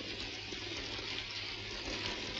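A continuous wash of falling rain fills the scene in a city street setting, a steady, even hiss with no breaks and no voices.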